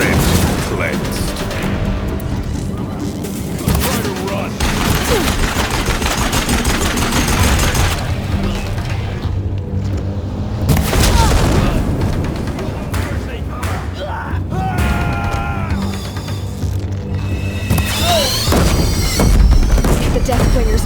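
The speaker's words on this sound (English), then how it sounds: "If the Deathwingers keep firing, this bridge will go." Deathbringer machines firing on a bridge in Horizon Zero Dawn, a dense, loud barrage of blasts, crashes and booms rolling on without pause, with voices mixed into the din throughout.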